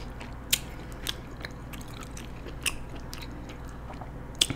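Close, crisp bites of crunchy cucumber with quiet chewing between them, a few sharp crunches spaced apart over a soft steady background during a seafood meal.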